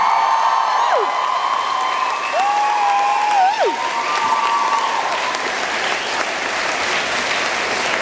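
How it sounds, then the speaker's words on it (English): Dense, sustained applause and cheering from a concert audience rolls steadily for the whole stretch, with occasional whoops and whistles rising above the crowd. "So give him a huge round of applause."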